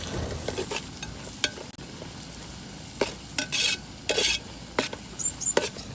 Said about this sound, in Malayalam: അങ്ങനെ നമ്മുടെ ഇഞ്ചിയും വെളുത്തുള്ളിയും നല്ലപോലെ സ്മെല്ലൊക്കെ പോയിട്ട് മൂത്ത് വന്നിട്ടുണ്ട്